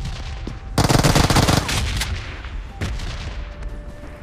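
Gunfire in a PUBG-style battle royale shooter game: a dense, loud burst of rapid shots lasting under a second, followed by a couple of sharp single bangs and lingering game ambience.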